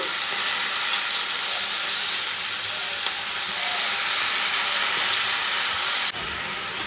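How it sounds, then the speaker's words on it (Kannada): Freshly washed drumstick leaves roasting dry in a hot pan for chutney: a loud, steady sizzle and hiss fills the whole stretch, with faint stirring scrapes and a slight drop in intensity near the end. "ಈಗ ಇದಕ್ಕೆ ನೀಟಾಗಿ ವಾಶ್ ಮಾಡಿಟ್ಕೊಂಡಿರುವಂತಹ ನುಗ್ಗೆ ಸೊಪ್ಪನ್ನ ಉರಿಲಿಕ್ಕೆ ಅಂತ ಹಾಕಿ"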